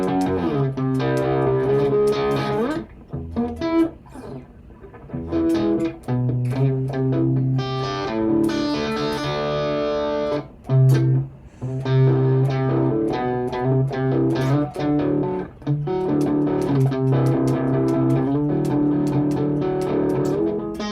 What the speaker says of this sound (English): So you can do a lot of pretty unique distortion amp type sounds